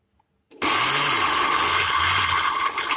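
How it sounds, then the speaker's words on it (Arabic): A kitchen blender grinds warmed peanuts and sesame seeds, starting abruptly after a brief silence into a loud, steady whirring motor drone that holds for the rest of the clip, with a slight dip near the end. "اقوم ضرباهم في الكبة بتاعة الخلاط لحد ما ينعموا"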